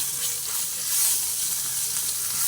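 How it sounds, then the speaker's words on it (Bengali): Ginger frying in a pan over a low gas flame for vegetarian ghugni gives a steady, close, even sizzle that holds at the same level throughout, with no voices. "এই সময় ভেজে নিতে নিতে আমি এর মধ্যে আদা দিলাম"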